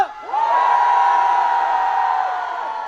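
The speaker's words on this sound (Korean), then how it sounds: "다시 한번 함성!" A large outdoor crowd at a city festival concert in Ulsan roars and whoops loudly, a sustained swell of cheering and shouting that holds steady for a few seconds, then eases slightly.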